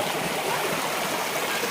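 A small rain-fed stream flows at a steady, even rush of water, close and continuous, with no voices.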